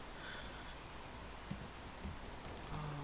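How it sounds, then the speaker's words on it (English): Steady rain falls in a video game, a continuous soft hiss of drops on surfaces, fairly faint, with a few small thumps and a low tone near the end. "Oh, the rain."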